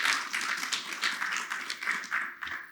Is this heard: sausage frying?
no